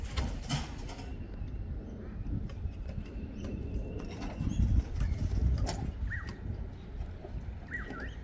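A pet parrot being fed bread flaps its wings in a brief loud flurry, then gives a couple of short squawks near the end, over room noise.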